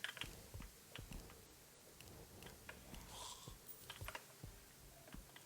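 Faint, irregular computer keyboard clicks and taps during a Terraria gaming session, with scattered bursts of keystrokes and brief pauses between them.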